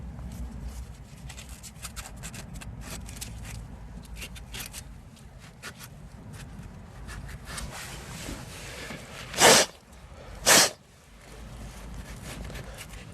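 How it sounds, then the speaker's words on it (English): Two short, loud bursts of compressed air blow scraped rust dust and particles out of a car's ABS sensor compartment, standing out sharply above a low background hum. "That's me blowing the particles out, or the dust after scraping"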